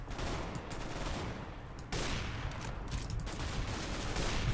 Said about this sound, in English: Let's see his elite sniping skills with the AWP.